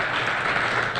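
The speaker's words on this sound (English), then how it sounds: "Just give them a round of applause, please, for being here today." Audience applause after thanks to guests at a community book reading event, a short steady burst of clapping filling the room without pause.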